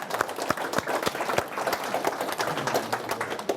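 An audience at a food industry keynote claps along in a loose burst, sharp individual claps rising into brisk scattered applause across the room, with no talk over it.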